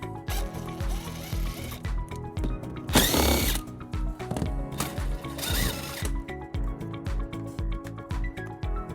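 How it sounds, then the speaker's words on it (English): A ratchet with a 10mm socket removes bolts from the underbody panel of a 2020 Tesla Model S. It makes a steady, rapid mechanical whirring and clicking, close and loud, with a couple of brief louder bursts and no talk. "We're going to remove those using a 10mm socket."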